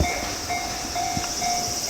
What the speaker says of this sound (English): train bound for Kawaguchiko will arrive soon.